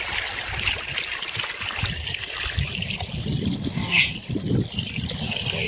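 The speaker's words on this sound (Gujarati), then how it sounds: "જોઈ લો ગાઈસ, મોટર હાલે છે." On a farm, water from a running pump motor pours and gurgles in a steady close trickle, a continuous babbling flow at moderate level.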